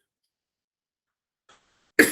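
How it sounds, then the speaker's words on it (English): A single sharp cough bursts out loud and close at the very end, preceded by a faint brief throat sound a moment earlier, during a live market analysis stream; otherwise silent. "Sorry for the cough."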